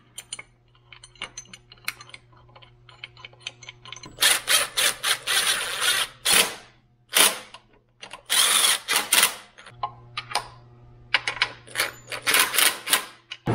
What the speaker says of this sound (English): you're gonna have to use a wrench.